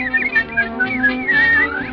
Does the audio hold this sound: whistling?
yes